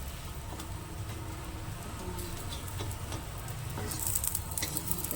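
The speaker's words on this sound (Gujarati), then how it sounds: "જો આને ધીમા ગેસ ઉપર છે ને આવી રીતે શેકી લેવાના છે" Aloo paratha bites sizzle steadily in a pan on a low gas flame, a dense crackling fry with scattered ticks and light pops, close and continuous.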